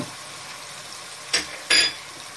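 Potatoes and eggplant fry with spices in a pan under a soft, steady sizzle, broken by two short, sharp bursts of stirring and scraping close by.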